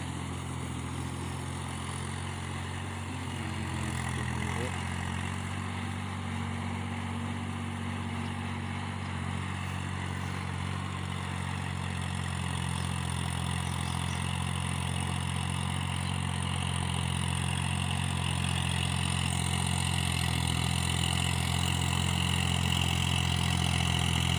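A Kubota L3608 tractor engine drones and rumbles continuously at close range in a rice field, its low tone holding even throughout with no voices.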